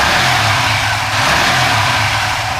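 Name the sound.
engine revving as throttle is opened during ECU tuning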